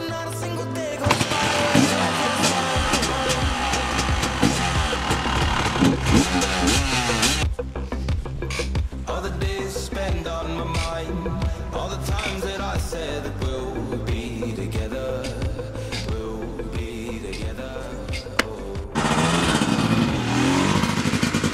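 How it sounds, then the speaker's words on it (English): A 250 motorcycle engine warms up and revs close by: a loud, continuous throaty idle with repeated throttle blips and rising revs, heard alone without talk. "Gotta warm up the bike for a little bit."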